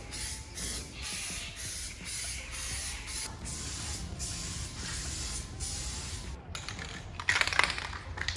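A color coat sprayed from a can onto a body panel of an EK Honda Civic, heard as a steady close hiss in long bursts with brief pauses and a short clatter near the end.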